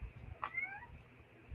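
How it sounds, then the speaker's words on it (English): A cat gives a single short meow near the middle, close by and fairly quiet, with faint low room rumble around it. "Okay, we're gonna have a cat interruption."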